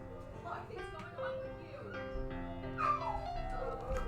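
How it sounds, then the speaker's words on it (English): Dogs whimpering and yipping in high, wavering whines with a few short barks, close and fairly loud, mixed with background game music. "Why are my dogs so sad?"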